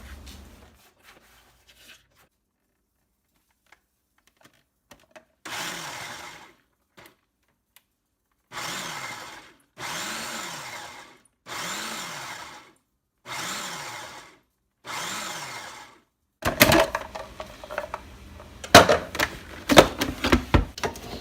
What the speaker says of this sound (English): So I'm going to chop them up in the food processor.